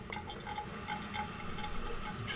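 Water runs steadily into a barber's sink to wet hair, a continuous close splashing flow with faint dripping and no talk.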